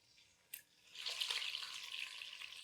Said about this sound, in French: Et nous allons la faire bien griller des deux côtés.